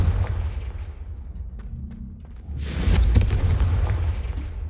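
In the Hogwarts Legacy video game, a Confringo blasting spell goes off as a loud, booming explosion with a sharp crackling burst, followed by a rumbling tail and no talking.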